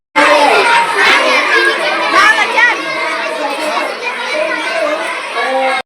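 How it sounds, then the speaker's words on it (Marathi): Crowds of children shout and call out at a school market with vegetable, footwear and snack stalls, a loud, continuous din of overlapping young voices close by. "मुलांची वाटे लावून ठेवलेले होते आणि प्रत्येक मुलं ओरडत होते"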